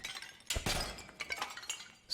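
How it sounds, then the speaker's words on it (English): Clay pots break apart in the dark fantasy dungeon game Dark and Darker, a couple of close crashing shatters with crumbling debris and a sharp clink at the end. "Smash our last few pots."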